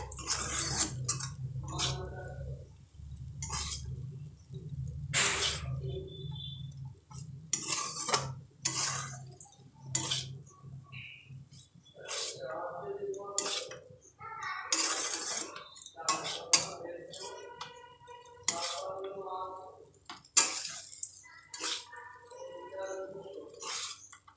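Egg chowmin noodles and soy sauce being stirred in a pan with a metal utensil, giving repeated close scraping and clinking strokes in an irregular rhythm, with a low hum underneath and no talking.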